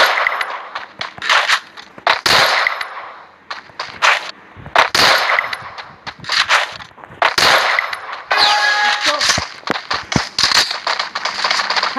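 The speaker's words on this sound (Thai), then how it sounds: "ปืนนี้มันคือปืนที่แรงมาก" Gunfire from a powerful weapon in the video game Free Fire rings out in sharp bursts and single cracks with metallic clangs, loud and close, with short pauses between volleys.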